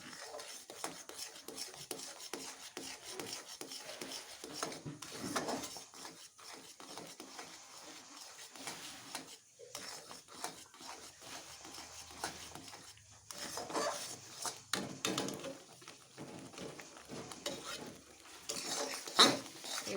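A thickening dish in a cooking pan is stirred steadily for a long stretch, producing quiet, repeated rasping and scraping strokes of a utensil against the pan, close and faint, with no talking.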